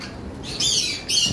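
Parrots, breeding Eclectus with a conure and cockatiels, give two loud harsh squawks close by, each about half a second long, with bird cage noise between them.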